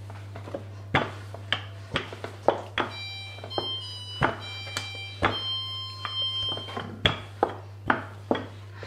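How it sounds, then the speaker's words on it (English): A kitchen oven sounding its preheated-and-ready tone, a string of short electronic beeps standing out among several dull thunks and knocks of kitchen handling, close and fairly clear with no talk. "So my oven is telling me that it's ready to bake."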